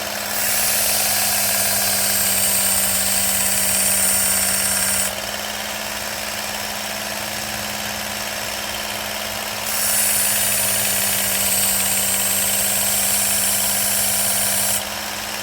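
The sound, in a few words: Work Sharp Ken Onion belt knife sharpener running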